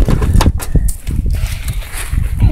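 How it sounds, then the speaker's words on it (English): Horse hooves clip-clop in a video game, loud and close, in uneven thumping steps for a couple of seconds amid a busy, noisy game soundscape. "Okay, better get these horses out."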